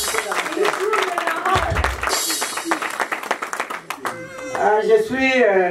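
A church congregation claps and applauds together in a dense, continuous patter, with voices calling out and a speaker's voice rising over the crowd as the applause carries on.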